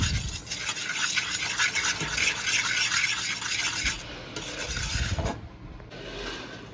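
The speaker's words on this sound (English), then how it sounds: "So you whisk that together." A whisk scrapes and swishes steadily through a sugar mixture in a bowl while making cranberry cheesecake, with a continuous close rubbing sound and a few brief knocks near the end.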